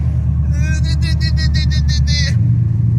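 A car pulling away in one gear without downshifting, its engine a low, steady rumble that builds slightly toward the end while someone talks over the first half.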